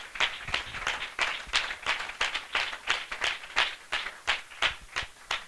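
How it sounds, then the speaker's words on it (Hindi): A church congregation claps in a strong, regular rhythm, like steady clapping in time, evenly paced and close, continuing throughout without speech. "हम जोरदार तालियों से उनका स्वागत करें।"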